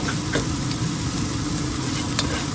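Garlic and ginger sauté in a hot pan for a quick curry, giving a steady close sizzle with a few light stirring scrapes and no talk.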